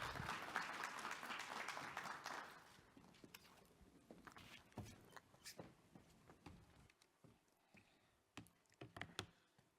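Applause rises from a crowd, dense at first, then thins into scattered claps and a few taps as it fades out.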